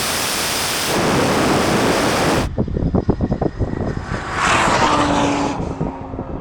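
A 1,800-horsepower Lamborghini Huracan and a Rimac Nevera drag race. A broad, roaring wash of noise cuts off sharply, then rapid pulsing engine bursts fade as the cars pull away, and a second surge of rushing noise passes.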